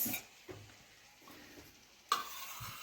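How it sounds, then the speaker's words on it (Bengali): Strained yogurt going into a pan of Bengali chicken kosha and being stirred, with soft scraping stir strokes and a faint sizzle, a few sharper spoon knocks against the pan, no talking. "জল ঝরানো টক দই, সেটা আমি অ্যাড করে ভালো করে নাড়াতে থাকবো"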